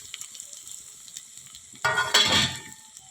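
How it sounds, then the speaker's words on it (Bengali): Garlic paste and dry spices frying in a pan, a quiet low background that suddenly erupts into a loud, close hissing sizzle as the spices hit the hot oil, with a stirring scrape. "রসুন বাদবাটাও ভাজা হয়ে গেছে তো বাদ বাকি যে শুকলা মশলাগুলো নিয়েছি সব দিয়ে দিলাম"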